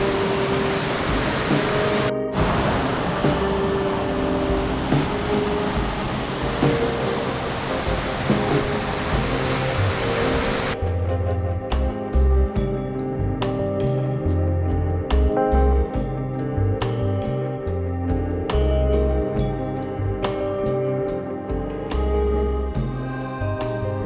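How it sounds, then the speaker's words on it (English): The Upper Hastings River Falls pours as a broad, steady roar of rushing water, close and loud, later joined by scattered rhythmic knocks and thumps. "Just the roar of the waterfall, you can tell that it flows pretty hard in big rains"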